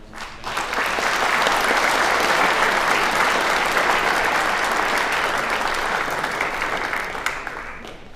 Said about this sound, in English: I recommend one more round of applause for all of the scholars